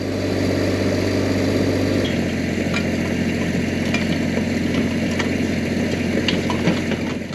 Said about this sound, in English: This Kubota's quieter than that gas engine.